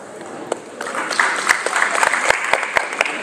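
Audience applause at a Guinean community celebration of the 67th independence anniversary and presidential inauguration in Columbus, Ohio: steady clapping from a crowd indoors, with a few sharp louder claps standing out over a sustained patter.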